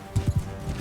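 Horse hooves clop in a quick run of about five muffled thuds while a horse is ridden toward a castle assault in the video game Mount and Blade Bannerlord.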